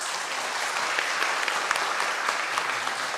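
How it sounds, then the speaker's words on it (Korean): A church congregation at a Sunday daytime worship service claps warmly to welcome a visiting pastor, a dense, even roar of many hands sustained throughout. "여러분 뜨거운 박수로 우리 이성희 목사님을 맞겠습니다."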